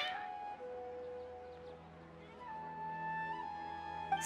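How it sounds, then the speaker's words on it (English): Cats meow in a video game, their drawn-out, tonal cries layered over a steady synthetic backdrop, with a faint voice speaking and a brief sharp sound near the end. "Your cats seem pretty worked up."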